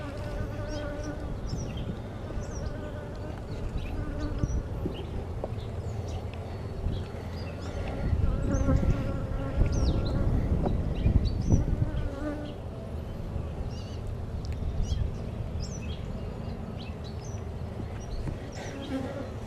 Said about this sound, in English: See all the bees up here on the queen